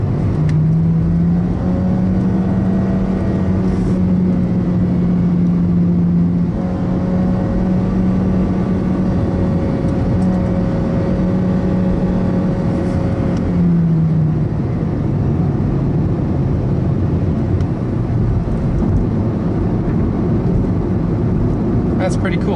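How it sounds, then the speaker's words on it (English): A 2014 Honda CR-Z EX engine drones steadily at low revs for the whole stretch, its pitch rising a little after a kickdown into first gear that skipped second, then settling lower near the end, with a person talking over it. "I just kicked it down into first, and it actually skipped 2nd gear"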